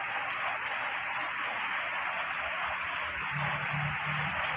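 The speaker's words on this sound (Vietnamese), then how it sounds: "hồi nãy là mưa rất là lớn, bây giờ là bắt đầu đã giảm lại" Heavy early-season rain in Thai Binh, Vietnam, now easing, falls as a steady dense hiss that holds even and continuous, with a faint low hum underneath.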